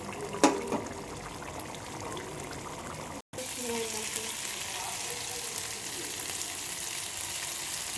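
Chicken chorchori fries in a pan with no added water, giving a steady, soft sizzle that runs nearly the whole time with a brief clink near the start and a momentary dropout.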